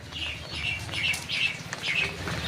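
Small birds chirp and tweet in repeated short bursts, with soft wing flapping, at moderate distance and fairly faint over a low background hum.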